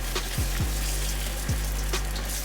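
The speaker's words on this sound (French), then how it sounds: "Ajouter un œuf puis mélanger avec une spatule." An egg frying in a pan for Cambodian fried rice with chicken and ginger, a steady loud sizzle broken by a few scraping strokes of a spatula.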